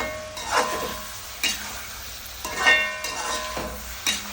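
Tomatoes sautéing with crushed chili in a pan, with a soft continuous sizzle broken by several distinct stirring scrapes at a loose, uneven rhythm, close and moderately quiet, with no talking.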